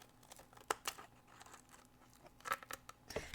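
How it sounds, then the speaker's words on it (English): Tonic scissors snip away excess card paper in a few quick, crisp cuts with papery crinkling between them, close and fairly quiet with no talking. "I've got some tonic scissors. And we'll just cut off that extra piece."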